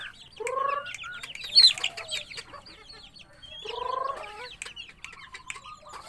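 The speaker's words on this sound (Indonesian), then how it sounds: "Tuh ayamnya tuh banyak tuh, liatin ini nih aus nih, ini tuh ayam." Chickens at a home yard clucking in short bursts close by, several calls rising and falling with brief quiet gaps, loud against a calm background.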